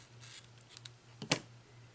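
Scissors cutting a short piece of ribbon while making a card, a faint quiet snip with a single sharp cut standing out near the end amid light handling rustles.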